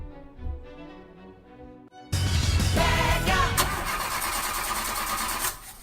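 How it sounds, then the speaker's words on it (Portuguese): A car engine cranks and catches as a sound effect in a radio ad, following a short musical jingle, then settles into a loud steady running drone that cuts off near the end. "Falhas na partida do seu carro?"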